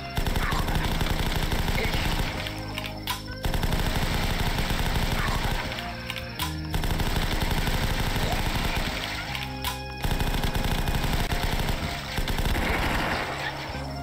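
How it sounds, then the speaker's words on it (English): Glitched rapid-fire revolver shots in the zombie game The Last Stand crackle in long fast bursts, loud and close, broken by short pauses between volleys. "I'll equip the revolver and it'll like kind of glitch it so that you shoot it with rapid fire"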